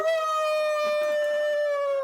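A person's voice imitates a long, steady victory howl during a Star Wars game session, held at a constant pitch for about two seconds with a rich stack of harmonics, loud and close.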